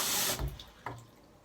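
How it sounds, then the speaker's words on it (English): Water runs from a tap into a cup in a short burst of splashing and gurgling that quickly trails off, close and fairly quiet. "fill your cup up with water"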